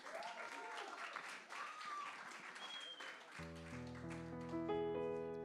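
An audience applauds a performer at a live music venue, a steady wash of clapping with cheers, and piano notes ring in over it partway through.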